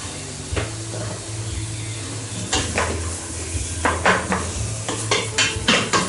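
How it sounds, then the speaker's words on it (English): Onions and garlic sizzling in a stew pot for a wintery beef stew, stirred with a utensil that scrapes and knocks against the pot in irregular bursts over a constant close frying hiss. "I'm going to stir the onions and the garlic."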